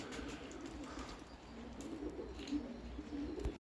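Carrier pigeons coo in a loft, soft low murmuring calls repeating against steady background noise, fairly close.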